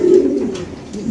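A large BRPFC racing pigeon coos loudly and close, a throaty low burble that swells at the start and then eases, with light rustling alongside.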